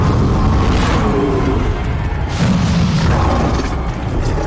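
Bombarda spell explosion in Hogwarts Legacy, a loud sustained rumbling boom with a second swell partway through, heard alone.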